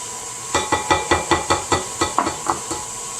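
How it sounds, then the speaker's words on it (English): Sour cream whisked in a bowl for a raspberry cinnamon coffee cake, about a dozen quick rhythmic scraping strokes of the whisk against the bowl, close and alone. "put your sour cream in here. And we're going to whisk it together for a minute to blend it."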